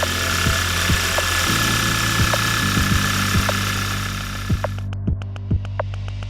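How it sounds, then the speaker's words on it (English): Car engine running at idle after Bosch high-pressure fuel injectors were installed, a steady tonal hum with repeated clicking ticks from the injectors, the drone shifting slightly in pitch as it settles, close and fairly loud with no talking. "Start the engine and check again."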